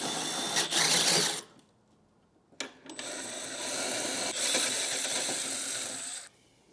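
A 5/16 drill bit drills out holes while repairing a GeoKnight heat press, heard as a close, whirring mechanical run with a brief burst, a pause and a sharp click, then a longer steady drilling stretch that cuts off abruptly.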